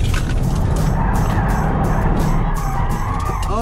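A BMW E92 M3 slides through a Scandinavian flick with the handbrake pulled, loud sustained engine roar and tire noise filling the whole stretch with no pauses.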